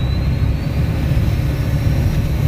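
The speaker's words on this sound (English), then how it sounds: "and a lot of turbo noises" A turbocharged car engine idles while warming up, giving a steady loud drone with a faint high turbo whine drifting upward beneath it and no talking.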